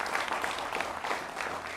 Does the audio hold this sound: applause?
yes